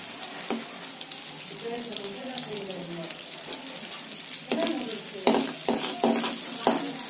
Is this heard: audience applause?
no